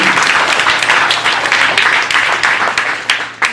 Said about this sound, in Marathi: जोरदार टाळ्या आपण स्वागत करूया